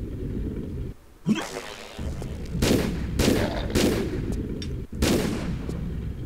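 Gunfire booms in Tomb Raider III, with several heavy shots and a rumbling blast ringing out over steady game background noise.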